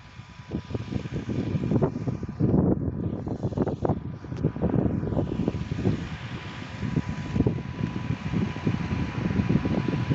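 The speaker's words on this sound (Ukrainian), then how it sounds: "Ось сівалочка біжить." Close, steady engine rumble from a tractor pulling a seeder sowing sunflower in a field, with wind buffeting the microphone throughout and no voices.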